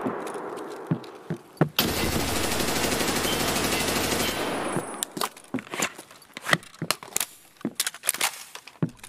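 A G36 rifle in the Escape From Tarkov video game fires a sustained burst of automatic gunfire lasting a few seconds. Scattered sharp clicks and cracks follow.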